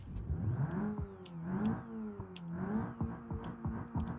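A turbo GTI hatchback revs hard in the BeamNG driving game, its engine note climbing and falling in repeated loud sweeps with gear-change dips, steady and close with no talk.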